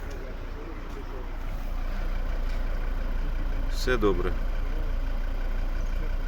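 A 2013 Volvo V60 with a 2.0 D4 diesel and automatic gearbox idles near the exhaust, giving a low, steady, even rumble throughout while someone speaks briefly over it.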